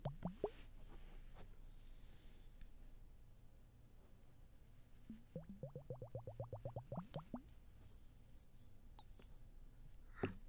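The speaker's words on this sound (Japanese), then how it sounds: "お水の音いくよ水ボトル" Water sloshes inside a bottle in a close, quiet ASMR setting: scattered soft plops, then a quick run of rhythmic gurgling glugs midway, fading back to near silence.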